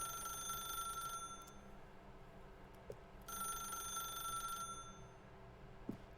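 Repeated trilling rings from a telephone in the video game The Stanley Parable, two bursts spaced by a pause over steady low background noise, with no voices.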